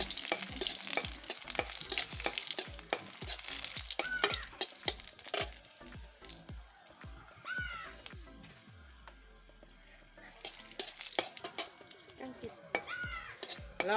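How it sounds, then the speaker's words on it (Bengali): Dried red chillies fry in oil in a pan, sizzling steadily under repeated clinks and scrapes of a stirring utensil. A cat meows in the middle and again near the end. "দিয়ে দিচ্ছি লঙ্কা, শুকনো লঙ্কা কটা ভালো করে ভেজে নিচ্ছি।"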